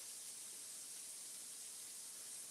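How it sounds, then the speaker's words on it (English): Shrimp sizzle in a hot pan, a continuous close hiss of frying that stays even and steady throughout with no talking over it. "I love that sizzle."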